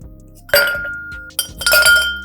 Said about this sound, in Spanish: Ahora rellenamos un vaso alto previamente frío con hielo transparente.